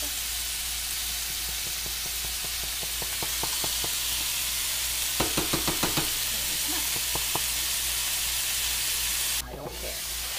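Chicken pot pie filling sizzles and fries in a pot under a steady hiss, with a string of light knocks and taps from stirring and a lid partway through.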